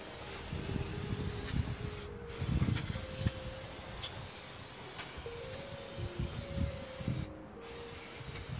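Repeated hissing bursts from a Würth engine cleaner aerosol can spraying at close range onto a heavily soiled engine, several short presses over a steady background rush.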